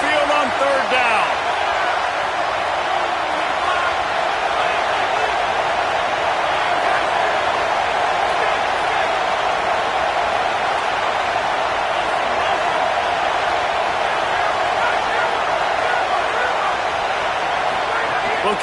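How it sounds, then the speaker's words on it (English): A dense, continuous roar of a huge Alabama Crimson Tide crowd at Saban Field in a college football video game, loud and unbroken throughout, with a commentator's voice faintly mixed in. "The Tide crowd rolling noise down onto Saban Field on 3rd down."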